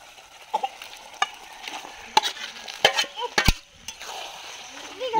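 Butter and tomato are stirred into a frying masala in a pan, with soft sizzling under scattered sharp spoon scrapes and clinks against the metal.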